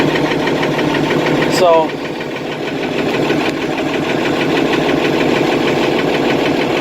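An IH 1586 tractor engine idles steadily after a cold start, having sat for two months in cold weather, a continuous low rumble running throughout with a brief voice over it near the start.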